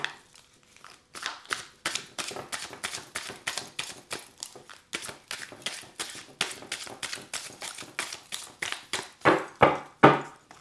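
A rapid, steady run of crisp papery riffles as tarot cards are shuffled close by, ending with a few louder, slower bursts.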